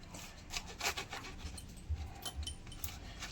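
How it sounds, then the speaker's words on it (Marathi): Bitter gourd sliced with a knife in a home kitchen, seed-cleaned gourds cut whole; a steady series of soft scraping, rubbing cuts with light clicks, close and fairly quiet, no talking. "हे बघा या पद्धतीने हे पूर्ण कारले कापून घेत आहे"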